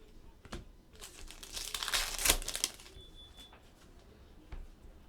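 A 2015 Panini Prizm Draft Picks football card pack wrapper is torn and unwrapped up close, a burst of crinkling foil lasting about two seconds, with faint handling noises before and after.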